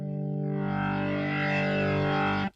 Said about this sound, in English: we slowly fade in the distortion